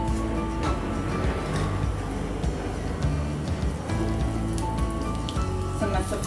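Cumin seeds crackle and sizzle in about three tablespoons of hot oil, a dense, continuous spitting hiss like rain on a surface with scattered sharp pops, up close.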